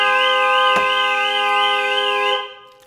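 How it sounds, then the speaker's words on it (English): A loud electronic car alarm on a 2012 Land Rover Defender 90 warbles steadily in a rapid repeating pattern, with one sharp knock partway through, then cuts off. "It's got a very, very good alarm system"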